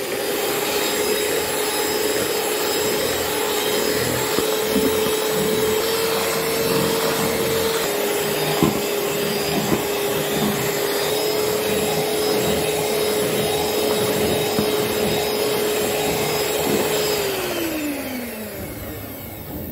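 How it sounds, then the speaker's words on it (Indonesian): An electric mixer beats eggs at high speed for a layered lapis legit prune cake, a loud continuous whirring drone with a steady pitch that drops briefly near the end as it winds down. "Dimixer lagi sampai benar-benar mengembang selama 15 menit dengan kecepatan tinggi"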